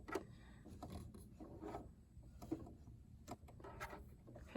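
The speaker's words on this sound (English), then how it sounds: "turn the hand wheel, and that top thread is gonna come through and loop up the bobbin" Hand wheel of a sewing machine being turned slowly to pull up the bobbin thread, quiet close mechanical clicks and rubbing ticks in an uneven rhythm, with no talking.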